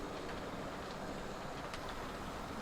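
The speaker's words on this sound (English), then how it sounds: "One of these short formations is seen departing from platform 2." 00 gauge model train pulling away from a platform on a Cornish Western Region model railway layout, a faint continuous whirring rumble with light clicks, quiet and alone.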